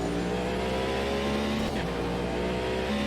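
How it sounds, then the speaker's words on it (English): A race car's V8 engine howls steadily at high revs in Automobilista 2, a loud, sustained tonal drone with a slight pitch dip midway, as if running flat out in a slipstream. "the beautiful V8 note"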